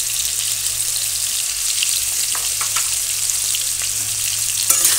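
Potatoes fry in oil in a pan, a constant close hiss and crackle of sizzling, with a spatula stirring in occasional scraping strokes and a brief clatter near the end.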